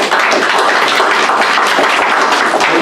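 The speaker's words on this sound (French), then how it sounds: "est-ce qu'on peut donner une main d'applaudissement au Seigneur pour ça?" A church congregation claps together during a service, a loud, dense and continuous roll of many hands that stays even for a few seconds with no speech over it.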